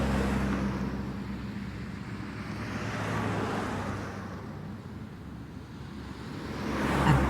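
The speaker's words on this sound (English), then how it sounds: "A bus and 2 cars drove past." A bus and two cars drive past on a road, each a soft rising and fading whoosh of tyres and engine, the swells coming one after another at a moderate distance, with no voices.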